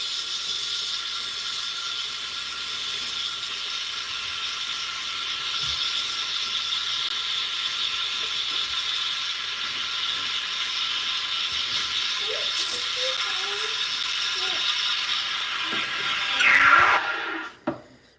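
Espresso machine steam wand steaming a large amount of milk for lattes and a cortado, a steady loud hiss and rasp held throughout, rising to a brief louder gurgle near the end before cutting off.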